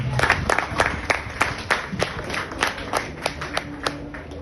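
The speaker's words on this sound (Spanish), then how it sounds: "Denle un aplauso a Dios" A church congregation claps together in a steady rhythm, each sharp clap landing evenly, loud and close for several seconds.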